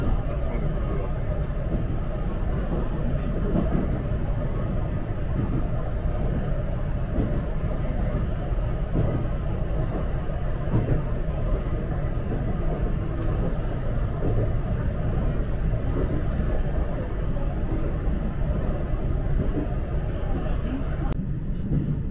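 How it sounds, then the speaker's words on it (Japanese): Steady rumble and hum inside a JR West Sanyo Line local train running toward Miyajimaguchi and Onoura near Hiroshima, continuous and loud throughout with wheel and motor noise, a faint announcement-like voice under it. "宮島口方面、普通電車大野浦行きです。"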